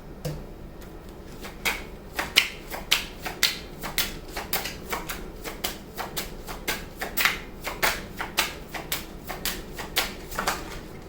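Tarot cards being shuffled during a reading, with a long run of crisp, evenly spaced riffling snaps and flicks, close and fairly loud, with no voices.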